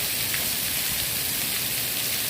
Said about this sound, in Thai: ฝนตกหนักนะคะมีลมกันโชก